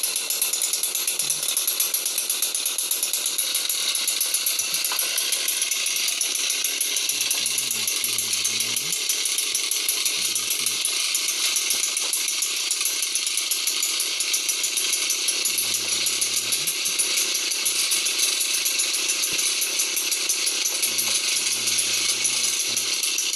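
A petrol brush cutter used for cutting grass runs at a steady, loud, buzzing drone throughout, with no pauses and no voices.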